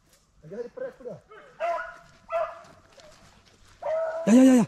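Hunting dog during a rabbit hunt in the Chilean countryside, several short barks and yips at close range among people talking outdoors.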